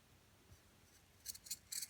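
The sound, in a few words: cutting off the toe of a sock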